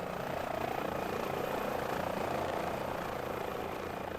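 Aircraft engine in Microsoft Flight Simulator, a steady, fairly quiet whirring drone with a rotor-like flutter that holds constant throughout, with no voices over it.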